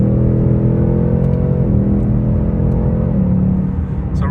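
A Ford Mustang Mach 1 with a 10R80 automatic accelerating at partial throttle, a loud, steady engine drone that dips briefly in pitch at a couple of smooth gear shifts, heard from inside the car.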